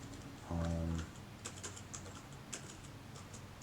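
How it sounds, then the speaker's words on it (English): Clicky keystrokes of someone typing on a computer keyboard in a quiet room, a fairly dense run of taps near the microphone with a brief low hum partway through. "I don't like typing on this lame keyboard"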